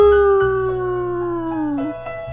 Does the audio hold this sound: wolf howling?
yes